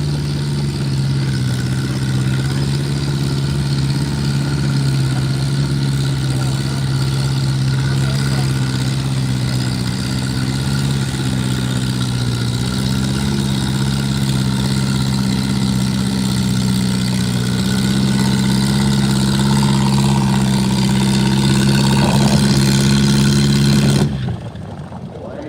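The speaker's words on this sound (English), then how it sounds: "They should have probably over 30 farm stock tractors." Antique farm stock tractors idle at a tractor pull at the Harvest Barn in Ohio, a loud, steady low engine chug with a slight rise near the end, then a sudden drop-off.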